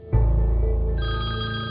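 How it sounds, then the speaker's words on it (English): A telephone bell rings: one loud, close electronic trill that starts abruptly and holds for under two seconds, stepping up in pitch midway, with no voices. "Then came the one phone call that changed everything."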